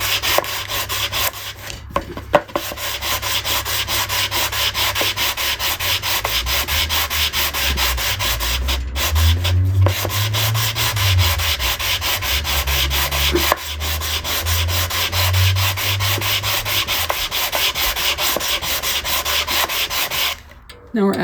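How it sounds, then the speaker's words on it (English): Steady back-and-forth scratching of 150-grit sandpaper on a poplar sanding block working bass guitar wood, close and continuous, with brief pauses between strokes. "a little sanding block I made of a offcut of poplar from a body with some 150 grit sandpaper on it"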